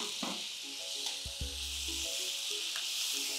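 Tomato pieces drop into a pan of frying potato pieces for Rayalaseema-style uggani, giving a steady close sizzle with a few soft clunks and a brief thud partway through, and no voices.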